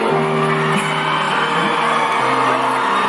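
Festival crowd cheering and whooping, a loud sustained wash of voices with rising whoops over steady noise throughout.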